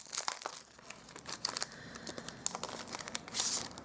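A Tasteful Textile 3D embossing folder being handled for a Forever Fern card, giving a run of close crinkling, rustling plastic clicks and crackles in uneven bursts; no voices.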